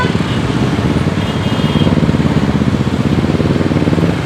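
A motorcycle engine, its idle raised slowly while a faulty regulator-rectifier is checked, gives a steady close-up rumble. The drone stays even, without revving spikes.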